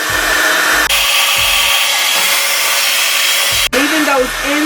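A handheld hair dryer blows steadily on hair for several seconds, cutting out briefly twice and starting again, with the airflow whooshing close and loud throughout.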